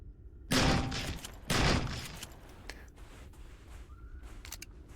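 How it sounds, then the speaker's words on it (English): Two sharp, loud gunshots, about a second apart, are fired at a mushroom in Empyrion Galactic Survival, Reforged Eden 2. Quieter ambient sound follows. "Just thought I'd shoot it a couple times to see if it was still thinking about being a mushroom"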